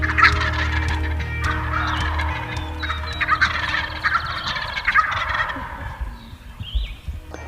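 Eastern wild turkeys gobbling repeatedly, with loud overlapping rattling calls from several birds close by and a few farther off, filling the outdoor air for several seconds.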